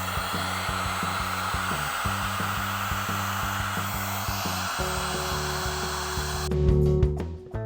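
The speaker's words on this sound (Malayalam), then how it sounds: "ഹീറ്റ് ഗൺ ഉപയോഗിച്ച് നമുക്ക് ഇതിന് ഇതാക്കി എടുക്കണം, സ്ട്രെയിറ്റ് ആക്കി എടുക്കണം. അപ്പോൾ നമുക്ക് ചൂടാക്കാൻ പോവാം" Steady, loud whooshing roar of a heat gun blowing hot air onto PVC plastic to straighten it for a custom scrambler bike side panel, running continuously with a faint motor whine and a brief change near the end.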